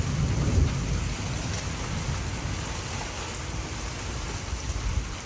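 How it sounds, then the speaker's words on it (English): Dusk monsoon thunderstorm over a garden: a low rumble of thunder rolls at the start, then steady rain patters and hisses on surfaces, moderately loud and continuous. "Thunderstorm."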